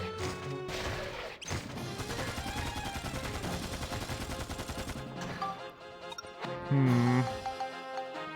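Nova Cannon shots fire in the Dark Cloud 2 video game, a burst of loud cracking blasts and crashes over several seconds amid game music, with a sharp impact near the end.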